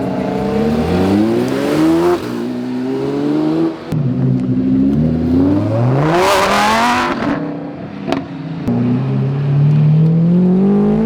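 A McLaren P1 hypercar, a supercharged model, accelerates hard away from a car meet. Its engine note climbs steadily through several rising gear pulls, loud and close, with a brief screaming peak midway and no talk over it.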